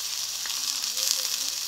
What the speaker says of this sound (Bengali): পাকা লঙ্কা কুচি ও পেঁয়াজ কুচি একটু ভেজে নেব।